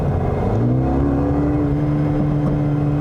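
A 2020 Mercedes-AMG CLA 35 with its 302 horsepower engine revs close by, the loud exhaust note climbing steadily in pitch as it accelerates, alone without any talking.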